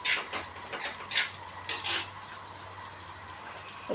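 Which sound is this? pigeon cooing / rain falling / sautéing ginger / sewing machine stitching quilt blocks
sautéing ginger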